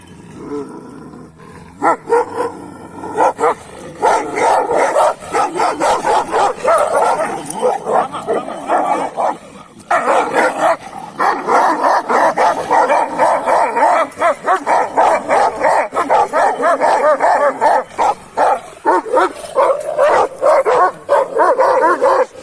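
Two dogs growling and barking at each other, with loud snarls, yips and whimpers in rapid overlapping bursts close up, continuous throughout.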